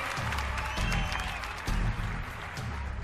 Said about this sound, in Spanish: Fuerte el aplauso para Azul en esta gran final